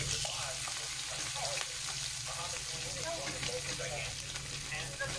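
Two hotdogs frying in a pan for breakfast, a steady close sizzle with occasional stirring scrapes, under intermittent talk throughout.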